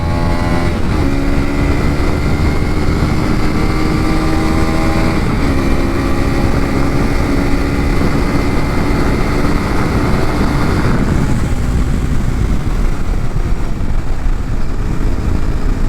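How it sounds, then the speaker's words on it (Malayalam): A Hero Xpulse 210 motorcycle accelerates hard, its engine droning loud and close, with the pitch climbing and then dropping at gear changes, over strong wind noise. "നമുക്കൊന്ന് ജസ്റ്റ് ഒന്ന് ആക്സലറേഷൻ ചെയ്ത് നോക്കാം വണ്ടി എങ്ങനെയാണ് പെർഫോമൻസും"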